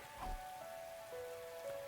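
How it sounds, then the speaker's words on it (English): Steady, heavy rain patters on a rooftop in a video game, a soft constant hiss with a few gentle sustained musical tones drifting over it. "Oh, and it's raining, too. It's really coming down hard."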